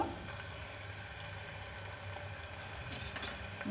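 Onions fry in oil with a steady, soft sizzle, joined briefly by a stir or two near the end.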